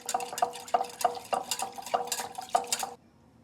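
Salt being stirred into flour in a bowl with a spoon while making pizza dough, giving a run of about eight light scraping, tapping strokes in a steady rhythm, close and clear with no talk, ending abruptly in quiet.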